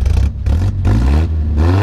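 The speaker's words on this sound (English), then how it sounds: "Go ahead and rev it up a little bit there, Nolan." A 1973 Datsun 510 Bluebird SSS 1800 engine with a mild cam and dual exhaust tips revs in a few sharp bursts with a rough, throaty exhaust rumble, close and loud, dropping to idle between pulls.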